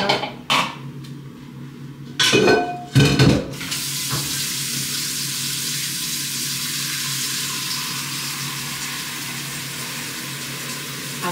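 Tap water runs into a kitchen sink. A few brief knocks and clatters come first, then the flow settles into a steady, close rushing hiss that continues to the end.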